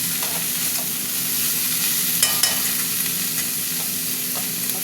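Sliced banana stem with onions and potatoes sizzles steadily in a hot pan, with occasional soft scrapes and clinks of a spatula stirring it, close up and without talk.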